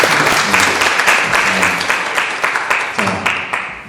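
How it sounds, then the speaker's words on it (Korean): Audience applause at a legislative training lecture, dense steady clapping from a room of people filling the whole stretch, loud and close, slowly thinning toward the end. "큰 박수 좀 부탁드릴게요."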